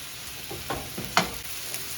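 Sausage frying and sizzling in a pan while being stirred and scraped a few times, a steady close hiss with several soft scraping strokes over two seconds, no talking.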